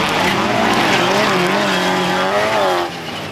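Autocross race cars at a hobby event in Krupina roar hard and close, with engines revving and pitch rising and falling over faint tire squeal, loud and continuous without speech.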